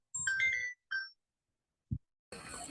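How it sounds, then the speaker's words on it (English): Phone ringtone going off in an online class, a bright electronic melodic jingle in two short bursts, followed by a soft thump and then a noisy stretch. "No, not my phone. Someone else's phone."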